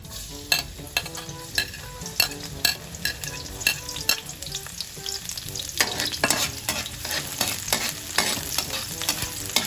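Garlic sizzles and crackles in hot oil in a wok-style pan, with steady frying hiss broken by frequent close scraping and stirring clatters, without any talk.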